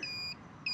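Steady electronic beeping from the turn signal of a Royal Enfield Classic 500 motorcycle, two short bright tones with a gap between them, close and alone.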